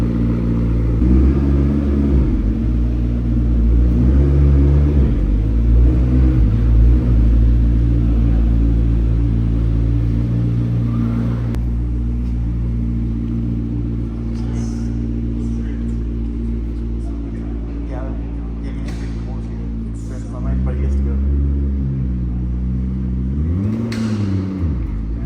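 McLaren P1 supercar driving through Miami: a deep, continuous engine drone close by, swelling with rising revs early on and again toward the end.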